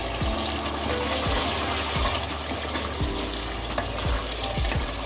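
Chicken karahi frying in yogurt in a hot pan, a loud continuous sizzle with rhythmic thuds and scrapes of stirring repeating every second or so, close up, no talk.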